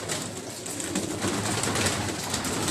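Rooftop pigeons in Karachi give a continuous low cooing against broad background noise, with no talk over it.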